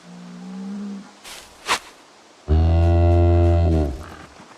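Cows mooing in Project Zomboid: a short low moo, a brief sharp noise, then a long, loud, deep bellowing moo lasting over a second, close and with no talking.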